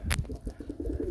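A pigeon coos in a quick series of low, rhythmic pulses, close and moderately loud, with a brief burst of noise at the start.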